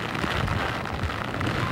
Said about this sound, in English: the wind and rain have just started picking up here again